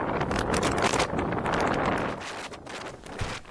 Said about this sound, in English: the wind was blowing so hard it was actually bending the wing over